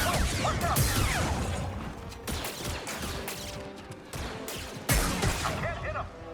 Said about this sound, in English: Shooting at the target!